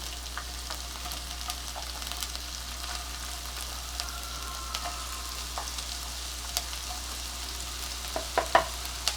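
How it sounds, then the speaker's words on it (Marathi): Mixed vegetables (cabbage, capsicum, carrot, spring onion and onion) stir-frying over high heat in a pan for Manchow soup, a steady soft sizzle with a few louder clatters of stirring near the end. "आता आपल्याला हव्या त्या भाज्या आपण घालणार आहोत"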